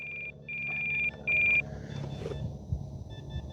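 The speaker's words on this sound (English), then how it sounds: "It's giving me the critically low alarm" Low-battery alarm from an RC plane transmitter for an E-flite T-28 Trojan, two or three shrill electronic beeps, the longest about half a second, close by, then faint shorter chirps under low outdoor rumble.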